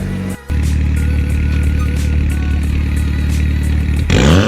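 A Mitsubishi Evo X fitted with BC Racing coilovers and TE37 wheels drives off after an alignment, its engine rumbling loud and close with a steady drone that rises as it accelerates near the end.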